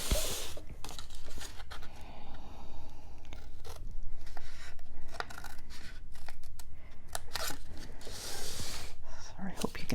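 Scissors snip a small wedge out of a paper page in a bullet journal, a close run of crisp cuts and rustles with soft, whispery handling noise throughout.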